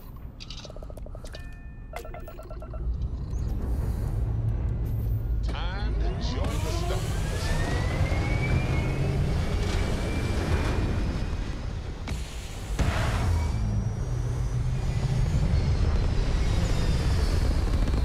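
The Scorpion Stalker spaceship lifting off in the space game Starfield: a rising engine roar that builds from a low rumble into a loud, sustained thrust with sweeping tonal whines, while someone talks throughout.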